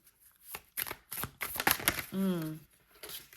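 Oracle cards are shuffled by hand in short bursts of crisp riffling and sliding, close to the microphone, broken up by someone speaking over them.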